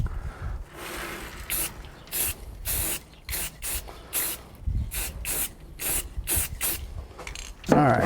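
Finish sprayed in repeated short bursts onto a carved cedar wood sign outdoors, a close hissing spray with quick pumping clicks of the nozzle between bursts, uneven in rhythm.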